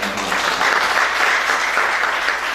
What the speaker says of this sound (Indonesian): Berikan tepuk tangan pada Tuhan.